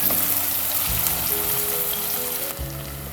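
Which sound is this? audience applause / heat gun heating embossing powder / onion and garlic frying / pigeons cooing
onion and garlic frying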